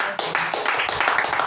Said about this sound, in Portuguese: Quantos podem aplaudir a Cristo aqui?